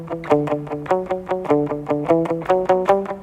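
Guitar repeats the single-note scale from a song's bridge in a new order, a steady, even stream of plucked notes with a light effected edge, close and moderately loud.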